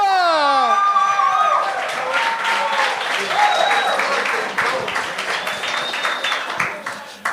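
A studio audience at a French-language TV talent show bursts into loud, dense applause mixed with cheering and whoops, gradually thinning out over several seconds.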